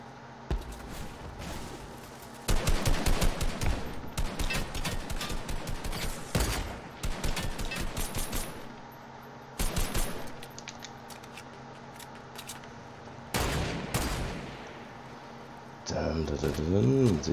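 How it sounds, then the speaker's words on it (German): Gunfire in an online shooter game, several bursts of rapid shots mixed with single cracks at varying distances, some loud and close, others fainter, with a person talking over much of it. "ich höre schon mal Schüsse, das ist schon mal gut"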